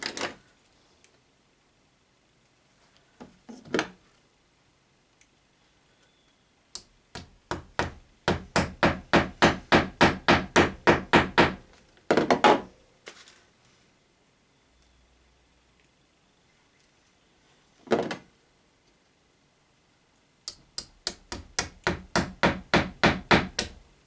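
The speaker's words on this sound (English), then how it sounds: "then you can wield the hammer over there without damaging anything" Repeated hammer strikes on wood land in bursts of rapid, evenly spaced blows, each volley about a dozen hits, separated by quiet gaps and a few isolated knocks; close and fairly loud, with no talking.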